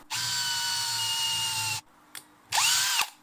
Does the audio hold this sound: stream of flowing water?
no